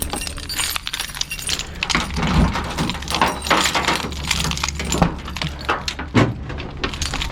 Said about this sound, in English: I got like a trillion keys up in here.